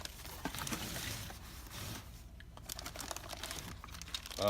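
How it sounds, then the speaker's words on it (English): Packaging for a Cal Royal HIL Series interconnected door lock gets opened and handled, giving soft crinkling and rustling with light taps and scrapes. The sound is faint and close, with no talking. "This is a complete package here that we'll unbox with instructions."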